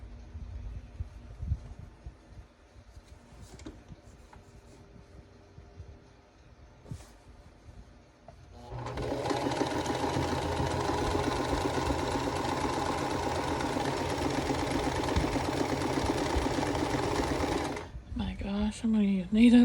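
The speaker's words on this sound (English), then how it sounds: "And we're just sewing corner to corner." A sewing machine stitches a quilt block corner to corner, a steady close whirring run of about nine seconds after a quiet stretch of small handling noises, ending with a brief voice.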